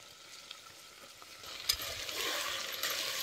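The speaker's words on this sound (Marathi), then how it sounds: "आता वाटाणा आणि बटाटो बी त्याला चांगलं भाजले." Garlic, tomato, onion, peas, potato and cauliflower frying together in a pan, with a soft sizzle that swells louder midway and a few light clicks from stirring; no one speaks.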